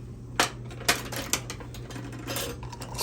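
A metal lid going onto a glass jar of redbud jelly, a few sharp clinks and scrapes followed by a soft twisting rasp as it is tightened, close and quiet.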